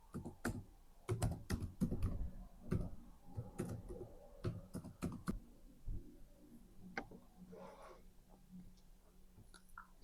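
Password being typed on a computer keyboard: a quick run of close, crisp key clicks in bursts, then a few scattered taps and a brief soft rustle near the end, with no talking.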